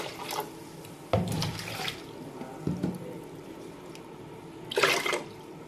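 Water from a bowl is poured into a pressure cooker in a home kitchen, heard as a few short, soft splashing bursts against quiet background.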